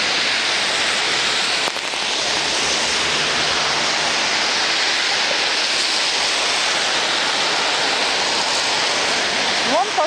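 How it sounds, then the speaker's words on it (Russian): Rainwater rushes along a street during rain in Anapa, a continuous broad hiss of flowing water and falling drops, close and loud without letup. "Вон поток идет."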